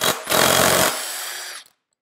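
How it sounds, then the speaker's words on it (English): A power tool whirs loudly to back out a bolt during the teardown of a failed 1.4 turbo engine with rod knock, one sustained close burst that cuts off sharply, with no talking. "Take off this bolt inside."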